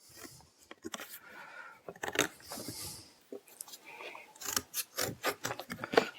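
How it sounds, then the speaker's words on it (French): Thick cardboard being cut into small squares to serve as screw washers, a series of close, crisp snipping and crunching cuts in uneven bursts. A voice speaks at times. "Donc je découpe mes petits carrés de carton."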